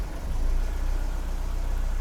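A Mercedes-Benz W123 230CE engine idles steadily at about 600 rpm, a low, even rumble with slight vibration, close and continuous, with no voices.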